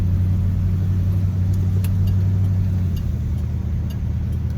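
A 1971 car's engine revs as it accelerates, giving a deep, steady rumble with a droning tone that drops off partway through, close and loud, with no talking.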